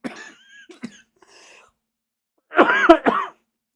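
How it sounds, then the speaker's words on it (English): During a live reading of a book, a short burst of harsh coughing near the end, two or three rough hacks close together, after a few faint scattered sounds and near silence. "I had a fucking coughing fit"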